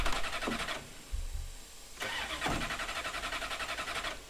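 A car engine with a dead battery in the video game Mafia 3 cranks in two loud, rhythmic bursts separated by a short pause, sputtering without catching and settling into a running idle.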